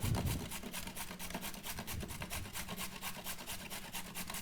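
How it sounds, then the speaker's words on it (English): A carrot is rubbed over a kitchen grater in a children's cooking class, a rapid, rhythmic rasping at close range that repeats steadily in quick strokes without talk. "You got your grater. We're just going to grate the carrot."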